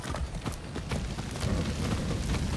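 Horse hooves clip-clopping in Far Cry 6, with a steady run of hoofbeats at a quick rhythm, fairly quiet and mixed with low rumbling game ambience.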